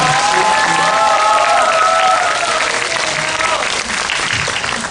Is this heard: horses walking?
no